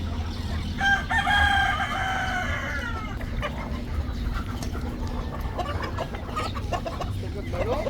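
Live backyard chickens with a rooster crowing nearby, followed by steady clucking and scattered fowl calls over a low background hum, no talk.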